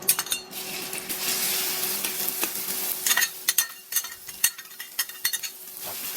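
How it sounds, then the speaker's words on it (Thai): Coarsely pounded chillies stir-fry in hot oil with a bright continuous sizzle. Rhythmic clanks and scrapes of a spatula against the pan come in bursts, close and fairly loud, with no talking. "ผัดให้พริกหอมเลยครับ"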